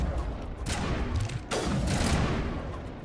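Gunfire in Mass Effect 1 breaks out in close, heavy bursts of rapid shots and booming blasts, continuous over a few seconds.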